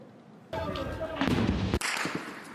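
Heavy bursts of gunfire close to a government palace during a prolonged armed attack, loud, dense cracks and booms packed together with little pause, following a brief quieter start.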